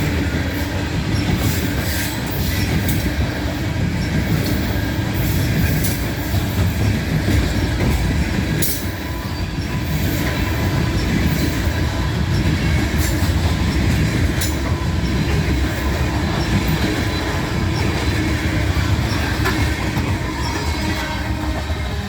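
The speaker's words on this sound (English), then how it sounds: "Alright, this is a unit train" A long downhill coal unit train rolls past close by, a loud continuous rumble with rhythmic clickety-clack of wheels on rails and occasional squeals, steady throughout.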